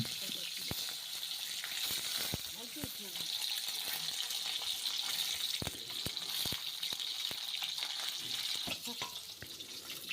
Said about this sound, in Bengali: প্রথমে তার জন্য মাছগুলোকে হালকা করে ভেজে নিতে হবে